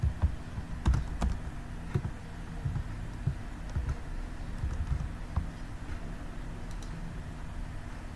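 Keys on a computer keyboard are tapped in an uneven run while a name is typed into an online profile form, light close clicks with a few sharper strokes and short pauses over a steady background hiss.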